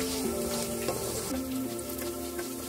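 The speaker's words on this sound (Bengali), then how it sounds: "এবার এই চালটা 5-6 মিনিট ঘিয়ের সঙ্গে ভেজে নেব" Gobindobhog rice frying in hot ghee in a frying pan, a steady close sizzle running throughout with a droning tone beneath it, no voices.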